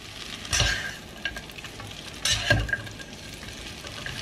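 Singaporean curry noodles being stirred in a pan: a quiet background sizzle with two louder scraping, rustling stirs about two seconds apart.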